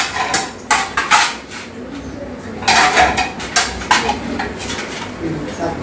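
Plates and cutlery clatter in a home kitchen during iftar preparation, with repeated bursts of ceramic clinks and scraping, close and loud between quieter gaps.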